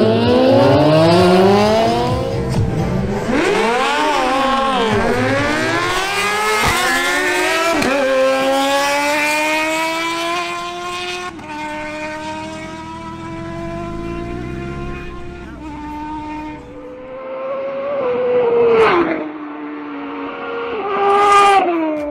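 Two drag-racing motorcycles, a Kawasaki ZH2 and a Suzuki GSX-R1000, howl loudly through rising and falling gear shifts as they launch and accelerate hard down the strip, engines screaming close and then fading.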